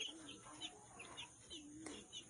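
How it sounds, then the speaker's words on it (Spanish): Young chicks on a farm peeping and cheeping in quick, high repeated calls, faint and close, with low background noise. "Porque son 15 pollitos bonitos"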